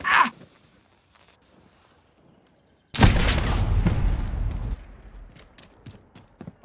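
A thermite grenade going off in Call of Duty Modern Warfare: near silence with faint noises, then a sudden loud burst that settles into a sustained roaring, crackling burn lasting a couple of seconds before it fades.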